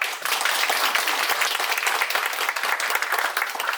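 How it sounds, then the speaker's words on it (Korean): An audience in a theatre applauds warmly as a prosecutor character enters during a stage play, thick continuous clapping at a steady, fairly loud level throughout. "뜨거운 박수로 맞아주십시오"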